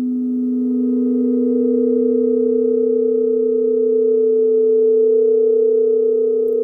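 Moog Mother-32 and Subharmonicon synths run a sequencer, producing a steady, loud sustained tone with stable pitches and a slight swell, continuous for the whole stretch with no voices.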